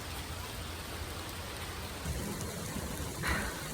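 Rain falls steadily in Yekaterinburg, Russia, a dense close hiss of drops on surfaces with no voices, a faint brief swell near the end.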